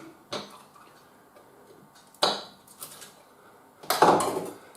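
A knife chops the ends off garlic cloves on a board, giving three or four sharp, separate clicks and knocks with short quiet gaps between them in a calm kitchen.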